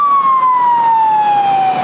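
A police siren wails at a shopping-mall shooting scene, one loud, steady tone sliding slowly downward without a break, close and continuous.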